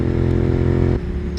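Suzuki SV 650 motorcycle with a bone-stock exhaust, its engine revving steadily and loudly up close, then dropping to a lower idle near the end.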